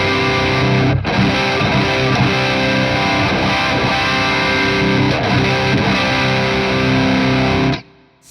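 Distorted electric guitar using Seymour Duncan Jupiter Rails bridge and neck pickups together, a steady run of thick, sustained chords played loudly and alone, ending in a sharp cutoff near the end.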